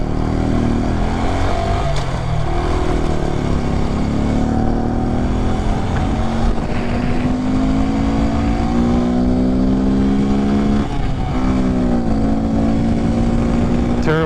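A Honda Grom motorcycle carrying a passenger drones loudly and steadily at close range, its engine pitch climbing gradually and then shifting, with road and wind noise throughout.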